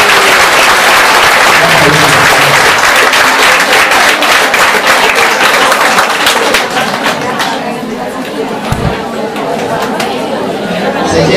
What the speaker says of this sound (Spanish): no nos vamos a ir sin darle un fuerte aplauso a la licenciada.